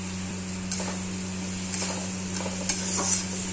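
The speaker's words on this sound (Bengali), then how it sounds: "দিয়ে এটাকে ভালো করে মিক্স করে নেব" Fried potatoes with cumin powder and spices being stirred in a pan, giving a steady soft scraping and gentle sizzle with a few faint clicks of the utensil, close by and without talk.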